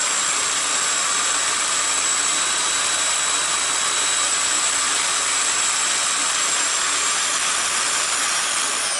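Power drill with a bit boring into a can or broomstick for a homemade diddley bow, a steady loud high whine held through the whole stretch.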